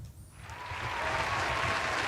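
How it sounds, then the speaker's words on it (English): Studio audience applause sound effect, a dense wash of clapping that swells in after a brief quiet start and holds steady and full to the end, with no voices over it. "So AI is clapping for you."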